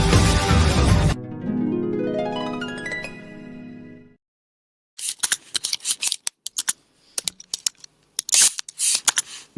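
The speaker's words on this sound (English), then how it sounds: "It sounds like you're opening a packet of cigarettes or something." After a fading ringing tone and a short silence, loud, close crinkling and crackling of a cigarette packet's plastic packaging being opened comes in irregular bursts.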